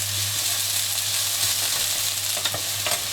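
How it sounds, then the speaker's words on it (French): Onion, garlic and chili frying in a pan for a Thai green chicken curry, a steady close sizzle with occasional stirring scrapes and a low hum underneath, no talking. "on va faire revenir notre oignon, notre ail et puis notre piment"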